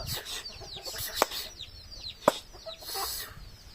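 Chickens cluck softly amid chirping on a banana farm, with two sharp taps standing out like beaks pecking at bananas.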